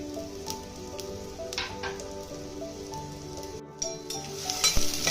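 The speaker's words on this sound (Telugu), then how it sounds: "వీటిని బాగా బ్రౌన్ కలర్ వచ్చేంత వరకు ఫ్రై చేసుకోవాలి" Sliced onions frying in about two tablespoons of hot oil for a chicken curry, a steady close sizzle with faint crackles and a few soft stirring scrapes near the end, with no talking.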